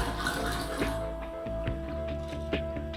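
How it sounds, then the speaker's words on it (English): Automatic transmission fluid poured into a vehicle's fuel tank, a steady trickling, glugging liquid stream with faint drips, heard close and moderately quiet under a soft background tone. "So I normally add a gallon of ATF to my fuel once every other week or so."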